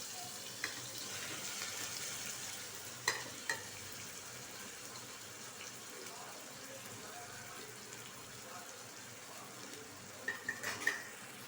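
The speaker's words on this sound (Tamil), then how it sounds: "இப்போ வெங்காயம் எல்லாம் போட்டு நல்லா வதக்கிட்டோம்." Sliced onions sauté in oil with ginger-garlic paste and curry leaves for a home-style mutton curry, giving a steady soft sizzle with occasional stirring clinks, quiet and close.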